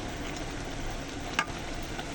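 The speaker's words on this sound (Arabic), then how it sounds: "هون نفس الشي بدنا نقلي فيهم الفطر" Mushrooms frying in olive oil with rosemary, a quiet steady sizzle with a single soft clink partway through.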